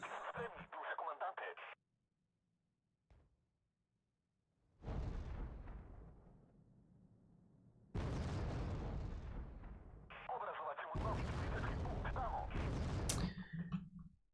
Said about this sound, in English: That's the mortar, that's our HE slinger.